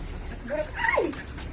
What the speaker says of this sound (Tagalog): Ililipat yung aso doon sa likod kasi mainit na guys.